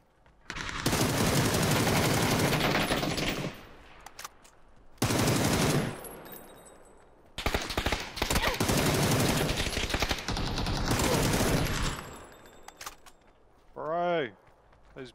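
Long, loud automatic gunfire bursts in PUBG, close and sustained for several seconds at a time, separated by short gaps. A voice is heard briefly near the end.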